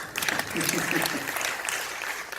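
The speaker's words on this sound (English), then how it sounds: "This is the time that we can clap together and cheer for the brave souls who actually participated in this." An audience at a panel event applauds, a dense steady patter of clapping with some cheering mixed in, sustained throughout.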